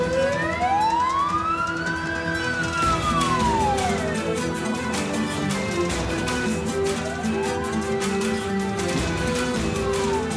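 Loud ambulance siren wailing close by, its pitch sweeping up and down repeatedly over traffic noise, with a second siren tone layered underneath.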